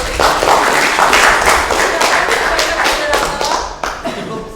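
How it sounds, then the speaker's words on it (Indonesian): Students in a classroom clap their hands together in a rhythmic, fairly loud burst lasting a few seconds, with sharp regular claps standing out over the dense applause. "tepuk tangan dulu"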